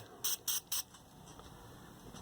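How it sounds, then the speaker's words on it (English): Three quick, close bursts of a trigger spray as Deox cleaner is misted onto a rag during repair of a 1960s Wards Airline GEN-1202 transistor radio, followed by quiet room tone with a faint steady whine. "if I take a little Deox here, spray it on a rag,"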